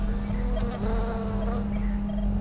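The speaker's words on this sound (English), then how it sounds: "Ooh, too many bees. Look at them bees." Bees buzz steadily and close by around flowers, a dense droning hum with overlapping wing tones and no voices.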